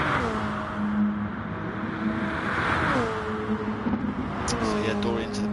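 In a racing video game, a Toyota Concept '16 race car on the Goodwood track hums at a steady pitch, shifting and revving up and down, while a commentator talks over it.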